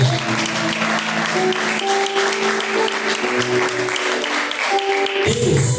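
A church congregation claps steadily for about five seconds over sustained keyboard tones, the clapping dense and even before a brief shift near the end.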